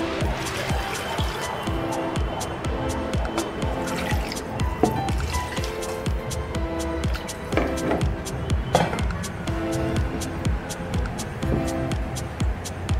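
Water poured into a pot of rice for Arabi-style chicken biryani, roughly eight glasses for four of rice, a close continuous gurgling and splashing pour with dripping.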